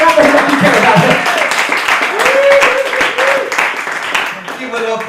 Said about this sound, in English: Clap for him like you care about him.